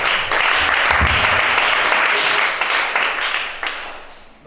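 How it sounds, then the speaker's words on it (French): Congregation at a religious meeting applauding for Chada, a sustained wash of many hands clapping in a hall, loud and even, then fading out near the end, with some voices mixed in. "Acclamez Chada."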